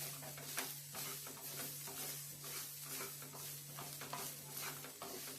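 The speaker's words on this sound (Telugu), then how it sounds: "కొంచెం తిప్పుకుంటూ ఉండాలి" Carrot and coconut curry stirred in a pan over low heat: soft, repeated scraping strokes over a faint continuous sizzle and a low steady hum, quiet and close, with no talking.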